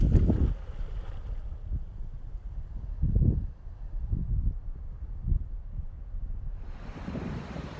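Steady, gusty coastal wind at Cape Lookout, North Carolina, buffeting the microphone with low rumbling surges, rising and falling over several seconds, no voices.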